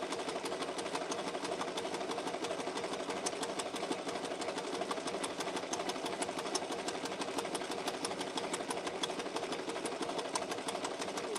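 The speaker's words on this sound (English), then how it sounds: "a fully powered electronic sewing machine" An electronic sewing machine runs steadily at a constant motor hum with rapid needle ticking, close and unbroken, with no voices.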